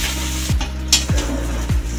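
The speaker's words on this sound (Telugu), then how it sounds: "ఇట్లా ఫ్రై చేసుకుంటే" Okra fries in a pan with a steady sizzle, broken by three soft, evenly spaced scrapes and knocks as it is stirred.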